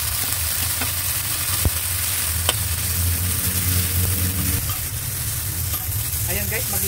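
Onion and tomato sizzle steadily in hot oil as they sauté for a fish sarciado, a continuous loud frying hiss with occasional stirring clinks and scrapes throughout.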